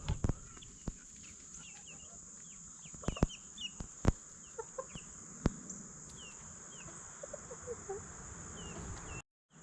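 Young and older chickens cluck and peep in small, scattered bursts, with sharp knocks and a steady high whine in the background.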